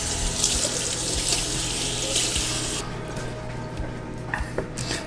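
Tap water runs steadily into a kitchen sink while vegetables are rinsed, a close hissing splash that cuts off partway through, leaving quieter handling and a few light knocks.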